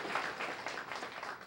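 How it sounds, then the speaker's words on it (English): Audience applauding students at a Paloma Valley High School student of the month ceremony, a steady wash of clapping from a crowd, faint and somewhat distant, lasting the whole moment. "let's have a nice round of applause for those students and everybody from Paloma Valley High School"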